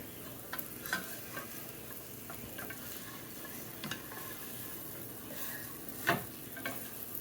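Tofu frying in a pan for chile crisp sesame noodles, a steady low sizzle broken by faint clicks and taps as the pieces are turned over, close but quiet, with no speech.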